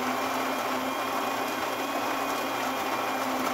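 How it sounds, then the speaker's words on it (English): Gaggia Cadorna Plus espresso machine grinding coffee beans, a steady, whirring motor buzz with a high mechanical whine, continuous and close, no talking. "Right now it's grinding."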